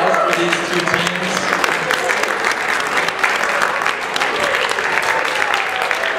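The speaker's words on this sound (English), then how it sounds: "Big round of applause for these 2 teams." A game show audience at a college Family Feud event gives two competing teams a big round of applause: loud, sustained crowd clapping that stays even from start to finish.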